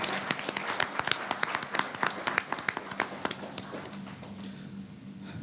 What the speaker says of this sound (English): I think the outgoing committee deserve another round of applause.